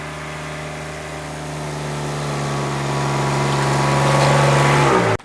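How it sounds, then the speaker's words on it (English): A Kubota RTV1100C utility vehicle engine drones loud and close in low gear at full throttle while climbing a hill, its steady tone rising slowly in pitch before cutting off abruptly at the end. "That was low gear, pedal to metal, no AC, 6 miles per hour, going up that hill, no problem."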